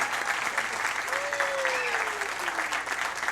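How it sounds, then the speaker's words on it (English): Crowd applause fills a baseball championship ballpark for a West Hartford vs. Stamford game, a steady, dense clapping from many hands heard alone at moderate distance, with a brief whistle or cheer rising over it. "So let's have a round of applause for them."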